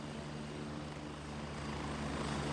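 A helicopter arriving in the video game Gray Zone Warfare, a faint, continuous rotor-and-engine drone that swells slightly as it draws closer.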